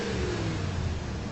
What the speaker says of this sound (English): They realized the escaping liquid could explain the mystery of the revving engine.